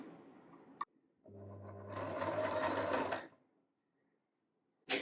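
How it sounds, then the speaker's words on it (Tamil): A sewing machine fitted with a buttonhole foot stitches a buttonhole in a steady, close burst of running that lasts about two seconds, then stops. A soft click comes just before it, and a brief knock follows once it has stopped. "அடுத்தது நம்ம வந்து மிஷினில் தைச்சிக்கலாம்"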